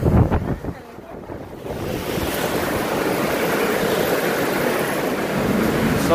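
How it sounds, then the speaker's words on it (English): Strong wind at the beach in Vallarta roars steadily against the microphone with rushing surf noise, gusting heavily throughout after a brief lull near the start. "So goddamn windy."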